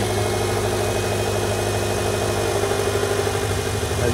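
A 2010 Subaru Forester 2.5X's engine idles steadily at close range, a continuous low hum with a faint higher whine, even and unbroken with no voices.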